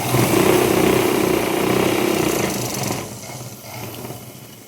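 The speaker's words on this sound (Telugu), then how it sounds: "ఇలా ఫస్ట్ ఒక కుట్టు వేసుకున్న తర్వాత మళ్ళీ కింద సైడ్ ఇంకో కుట్టు వేస్తున్నాను" A sewing machine stitches layers of pant fabric in a steady, continuous whirring run. It is loud and close at first, then fades and stops about three seconds in, with no talking.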